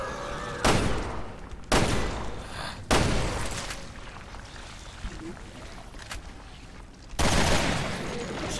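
Four heavy gunshots ring out at uneven intervals in Resident Evil Revelations 2, each loud and sharp, separated by a quieter, murky background.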